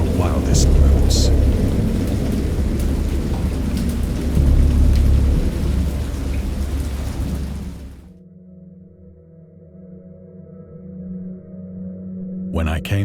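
A thunderstorm scene in an H.P. Lovecraft 'Dagon' interactive story game: heavy rain roars with rolling thunder, then the storm cuts out to a quiet low hum before a brief burst returns at the end.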